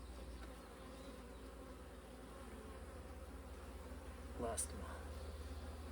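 Honeybees in a queen-rearing setup give off a faint, steady buzzing hum, with a brief soft spoken remark near the end.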